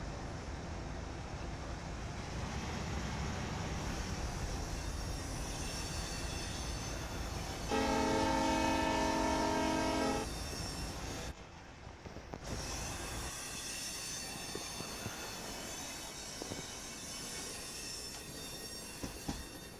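An ex-Norfolk, Maryland and Southern locomotive, unit PS448135, runs in Train Sim Pro USA, heard from inside the cab as a steady rumble with rail noise, a sustained horn blast, and then continued running.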